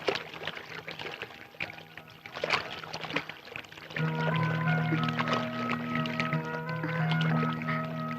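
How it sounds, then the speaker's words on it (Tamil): Hot water is poured into a cup and mixed with more water, giving a trickling splash followed by a steadier, louder pour, heard close and fairly quietly with faint background sounds. "இப்படி பஸ்ட் தண்ணி கலக்கணும்."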